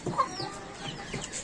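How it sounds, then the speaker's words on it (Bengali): Backyard hens kept for laying eggs give soft, brief clucks and low throaty murmurs, quiet and close, over a short stretch with no talking. "এখানে মুরগি আছে আমার, মুরগি ডিম পাড়ার জন্য ঢুকছে এখানে"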